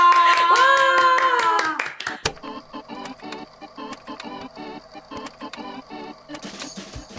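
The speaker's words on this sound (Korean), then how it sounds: "박수!" A voice calls out briefly, then a short burst of hand clapping follows, a rapid patter of claps from a few people close by.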